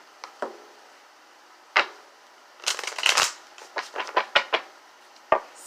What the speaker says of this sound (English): let the shuffling begin.